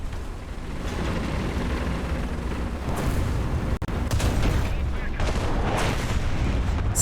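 Tank cannon fire in the War Thunder video game, heavy booming blasts and rumble filling the scene, loud and close with a sharp report near the middle, with a voice talking over it.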